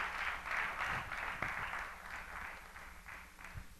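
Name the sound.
congregation applauding in church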